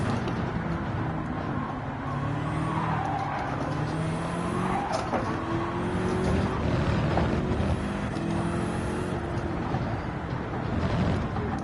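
A GT3 race car in Gran Turismo 7 roars steadily through an open-lobby sprint race, its engine note rising and falling through gear changes, with faint tire squeal at the corners.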